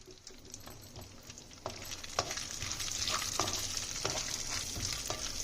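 Rava laddu ingredients frying in a pan, a soft steady sizzle with occasional stirring scrapes and taps, close and fairly quiet with no talk.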